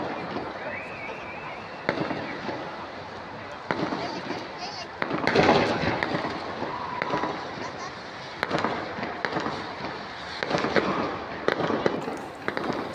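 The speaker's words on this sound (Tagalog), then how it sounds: "ang firework display ay nakapwesto rin po sa gitna ng dagat" Fireworks display bursting over the water at Darling Harbour, a series of sharp booms and crackles going off every second or two, moderately loud, mixed with crowd noise and talk.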